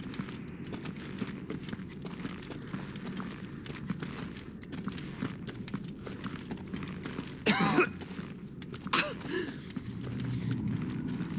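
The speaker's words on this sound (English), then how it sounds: "Because of the cough." A character in the video game Final Fantasy XVI coughs twice, short rough bursts spaced a second or so apart, set over a steady outdoor ambience with faint footsteps or hoofbeats.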